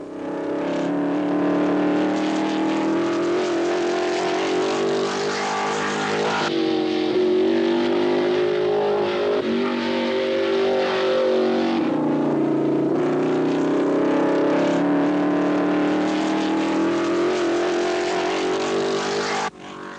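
1955 Formula One racing cars at the British Grand Prix circuit sweep through a corner, their engines a loud, continuous high-pitched roar whose pitch rises and falls with each gearchange and acceleration, with no talk over it.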